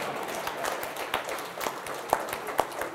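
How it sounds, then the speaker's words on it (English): A conference audience claps in a sparse, thin round of applause with a few distinct sharp claps standing out, fairly faint overall. "deserves a round of applause"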